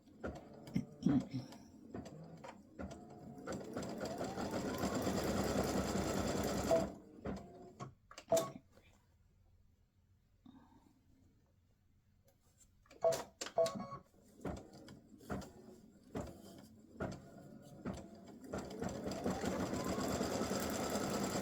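A home sewing machine stitches free-standing lace bow earrings, its motor buzzing in steady bursts with a pause and clicks between runs, close and clear.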